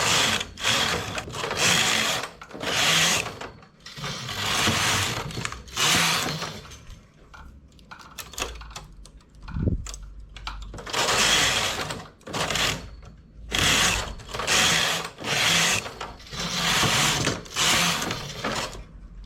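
A knitting machine working rows of a neckline with stitches being decreased, each carriage pass giving a rapid mechanical clatter in regular bursts separated by short pauses, close and fairly loud.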